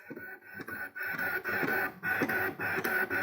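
A Brother ScanNCut cutting machine fills in a design on a birthday card, giving a steady mechanical whirr with a repeating motor rhythm and brief pauses as the blade carriage shifts. The sound is close and alone.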